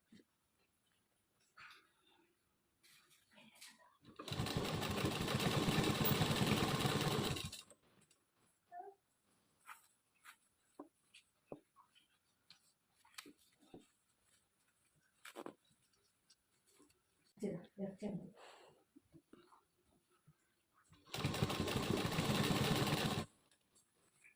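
Sewing machine stitching a pair of pants: two bursts of steady, rapid mechanical whirring, each lasting a few seconds, separated by quiet handling clicks and rustles of fabric.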